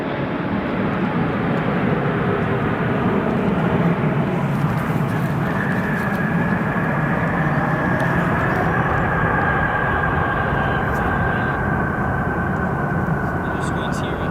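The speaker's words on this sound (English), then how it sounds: "Etihad Cargo, Boeing 777FFX, arriving from Frankfurt after an 8-hour and 21-minute flight time" Etihad Cargo Boeing 777 freighter arriving from Frankfurt at O'Hare, a steady broadband jet roar that holds loud throughout, with a faint rising whine partway in.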